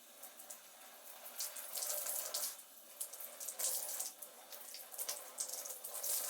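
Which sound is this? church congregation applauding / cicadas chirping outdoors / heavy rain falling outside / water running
water running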